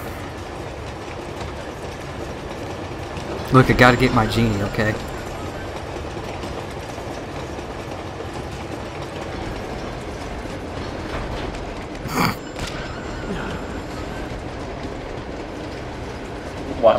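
Moving train in the video game Uncharted 2, a steady rumbling rattle running throughout with a few louder clanks and bursts, while a person talks briefly over it.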